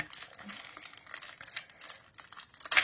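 Crinkling plastic packaging of scrapbooking die cuts being pulled open up close, irregular crackles and rustles ending in a sharp, louder crinkle.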